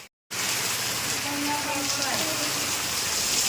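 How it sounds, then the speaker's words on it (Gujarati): Steady rain patters and hisses on surfaces after a brief silent start, with a faint murmur of distant sounds beneath it. "ફાઇનલી અમારે વરસાદ ચાલુ થઈ ગયો છે"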